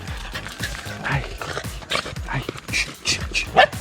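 Dogs bark in a loud, busy outdoor setting at a sauna in Bali, with short sharp yelps scattered across the clip alongside voices and general commotion.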